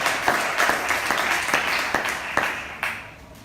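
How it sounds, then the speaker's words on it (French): A church congregation applauding the Lord, with steady group clapping at moderate volume that thins out toward the end. "si tu es béni, tu acclames le Seigneur"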